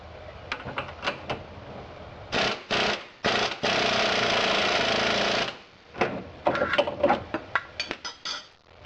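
An impact wrench tightens a suspension bolt on a Jaguar XK8 during an upper bushing replacement, with several loud rattling bursts, one sustained about three seconds, among shorter clanks and tool handling noises, no talking.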